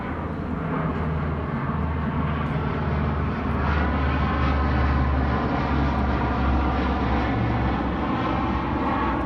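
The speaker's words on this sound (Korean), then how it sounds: "비행기 소리 때문에 잠깐만." An airplane passes overhead near an outdoor school lesson, its loud, steady engine roar filling the air without letting up.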